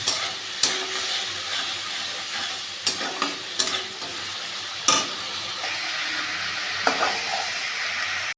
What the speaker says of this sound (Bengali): দিয়ে আমি এটাকে ভালো করে নাড়িয়ে নিচ্ছি, প্লাস মিশিয়ে নিচ্ছি, মিক্স করে নিচ্ছি